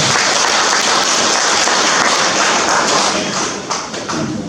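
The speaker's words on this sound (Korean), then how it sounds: "다시 한번 큰 박수 부탁드립니다." A dense, steady roar of audience applause fills a hall at a rural farmers' policy conference in Seocheon County, many hands clapping together loudly and continuously before easing slightly at the end.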